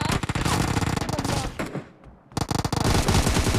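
Rapid automatic gunfire in the mobile battle royale game PUBG Mobile, loud close bursts of shots that break off for a brief gap, then resume.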